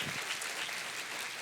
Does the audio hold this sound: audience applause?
yes